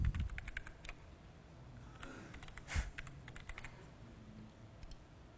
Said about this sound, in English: I got to make sure I type this right.